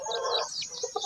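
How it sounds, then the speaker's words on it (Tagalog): A chicken clucks and squawks briefly up close, a short burst of high, agitated calls. "malaking klase ng manok to."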